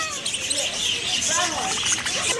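Birds chirp and tweet in an aquarium's walk-through bird exhibit, bright overlapping calls near and far, with people chattering in the background.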